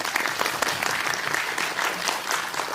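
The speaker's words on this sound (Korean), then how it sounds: "박수입니다" An audience in a cinema applauding after a film greeting, dense steady clapping from many hands that fills the space evenly throughout, close and sustained with no break.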